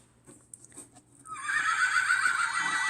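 A few soft clicks, then a bright electronic unicorn whinny plays from a small speaker in a children's sound book, clear and close, trilling for over a second.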